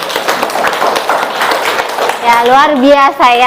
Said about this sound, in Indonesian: tepuk tangan untuk Fadli